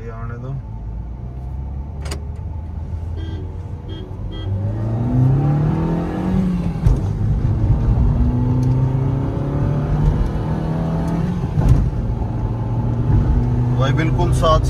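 Maruti Baleno and Celerio cars in a side-by-side drag race, engine drone rising steadily as they accelerate through the gears, heard from inside the cabin with people talking over it throughout.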